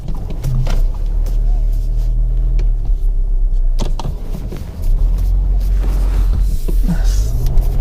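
A 2019 Audi Q3 cruises slowly in fifth gear at about 30 mph just above idle, a low steady engine and road rumble heard from inside the cabin with a few knocks and shifts in tone, no clear talk.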